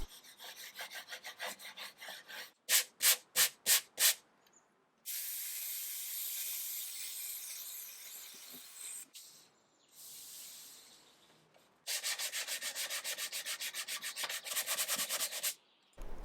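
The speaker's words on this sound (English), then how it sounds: "I gave everything one more sanding" A wood veneer surface is sanded by hand with sandpaper in rhythmic bursts: quick short back-and-forth strokes, then long continuous rubbing passes, separated by brief pauses, close and clear with no talking.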